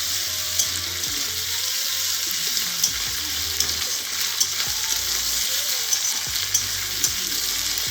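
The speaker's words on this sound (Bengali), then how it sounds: "সব ভালোভাবে ভাজা ভাজা করে নেব।" Onion, capsicum, ginger and garlic fry in hot oil, giving a steady, dense sizzle with occasional stirring clicks and scrapes of the pan throughout.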